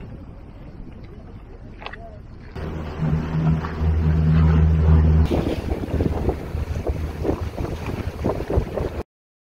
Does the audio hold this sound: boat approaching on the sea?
yes